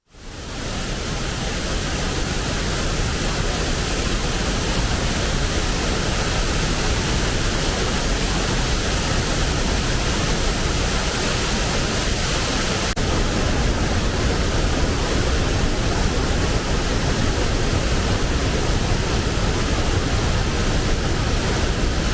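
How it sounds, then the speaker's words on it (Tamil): The swollen Kaveri river at Hogenakkal in Dharmapuri rushes in a steady, dense roar of floodwater, loud and close throughout with no voices. "தருமபுரி மாவட்டம் ஒகேனக்கல் காவிரி ஆற்றில் நீர்வரத்து அதிகரித்துள்ள நிலையில் தண்ணீர் பெருக்கெடுத்து ஓடுகிறது."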